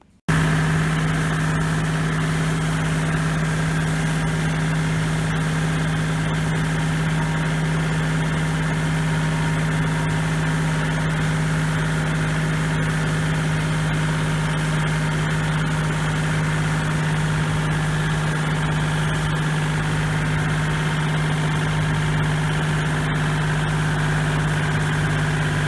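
A DIY ATV tractor engine idles steadily and loud for the whole stretch while hauling a folded drag harrow made from T-posts, a constant low drone with no talking.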